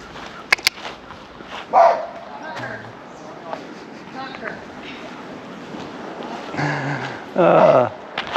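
Outdoors on a walk, a dog gives a few short barks in two bursts, fairly close, with people talking around it and street background noise.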